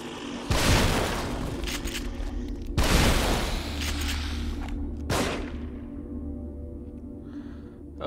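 Three booming gunshots in the horror video game The Evil Within, each a heavy blast with a long reverberant decay over a steady low background.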